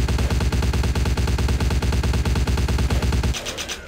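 Rapid automatic gunfire in the video game Vampire: The Masquerade – Bloodlines rattles in a fast, even stream of shots for about three seconds, then stops, leaving a faint ringing tail.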